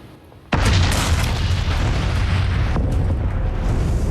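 The 1902 volcanic eruption of Mount Pelée: a sudden massive boom bursts out of near silence, then continues as a loud, dense, sustained roar that only slightly eases toward the end.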